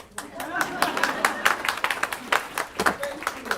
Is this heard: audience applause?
yes